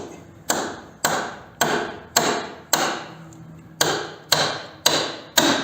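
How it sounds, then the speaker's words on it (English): Hammer smacking a hand impact tool while fitting a motorcycle inspection plate, ten sharp metallic strikes at an uneven pace, each ringing briefly, close and fairly loud. "you smack it with a hammer, and it kind of jolts it and twists it a little bit at the same time when you hit it"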